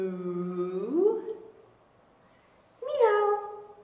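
A human voice imitates a cat during a yoga cat-cow stretch, giving two drawn-out meows separated by a short pause, close and clear.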